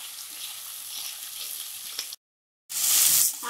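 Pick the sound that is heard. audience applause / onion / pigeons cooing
onion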